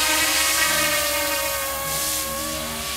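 A brushless direct-drive YXZNRC F09 UH60 Black Hawk RC helicopter hovers nearby, giving a steady high-pitched rotor and motor whine with strong tonal harmonics, loud and continuous throughout.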